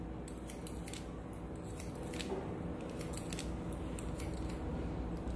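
Scissors snipping steadily through hair during a layered comb-over haircut on a client with thinning hair, working the left side of the head; close, continuous rapid clipping with no talking.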